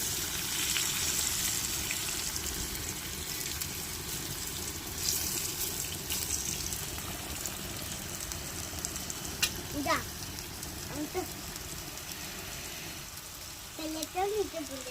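Eggplant slices frying in a covered pan over low gas give a steady soft sizzle throughout, with a few faint clinks and a brief voice-like murmur near the end.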